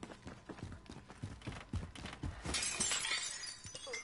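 Glass window shattering in the video game Call of Duty Warzone, a bright crash of breaking glass after a stretch of softer thuds and clatter, close and fairly loud with no voices.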